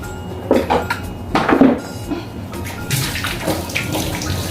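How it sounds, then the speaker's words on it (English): Hands being washed under a running kitchen tap, with water splashing and shifting close by and a few soft clinks of dishes, no talking. "let me wash my hands."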